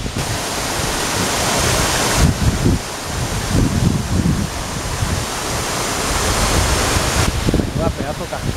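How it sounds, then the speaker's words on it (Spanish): A waterfall near the Carboeiro monastery in Galicia, billed as the region's tallest, sends up a steady broadband roar of falling water that stays near and loud throughout. "Una pedazo cascada, tío."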